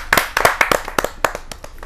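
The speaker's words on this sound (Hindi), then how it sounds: "जहाँ जोरदार ताली बरसाएं" A short burst of brisk hand clapping from a small audience at a Hindi poetry recital, sharp claps close by, quickly thinning out.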